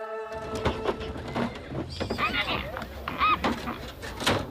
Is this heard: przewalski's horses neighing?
yes